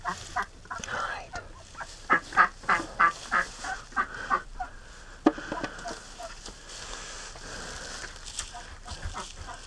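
Muscovy ducks get up from their nests in a barn and move off, giving a string of rhythmic, breathy hisses and low calls, with a sharp knock partway through and some faint rustling.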